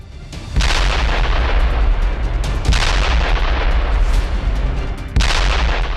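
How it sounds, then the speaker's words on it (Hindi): Russian FAB-3000 glide bomb explosions striking Ukrainian positions in wartime, heard as repeated heavy booms with long rolling rumbles that fill the clip, three distinct blasts spaced a couple of seconds apart. "यह धमाका रूस के FAB-3000 ग्लाइड बम ने किया है"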